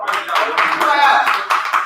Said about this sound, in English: Clap for it, y'all. Clap.